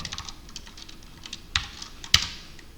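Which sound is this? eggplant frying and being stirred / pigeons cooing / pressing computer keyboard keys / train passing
pressing computer keyboard keys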